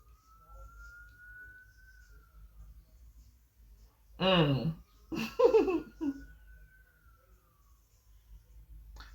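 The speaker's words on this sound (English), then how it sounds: "Y'all hear the sirens." A distant siren wails faintly in the background with a steady rising and falling tone, while a person briefly talks and laughs up close.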